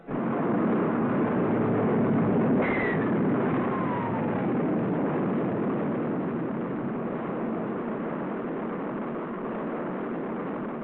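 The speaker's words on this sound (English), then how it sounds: "Rocket performs perfectly as it lifts the funnel-shaped capsule gracefully along." Archival recording of a Mercury rocket lifting off, a dense continuous roar that stays loud and steady throughout, with a faint descending tone passing through early on.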